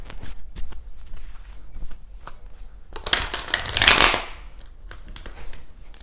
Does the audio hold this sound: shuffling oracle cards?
yes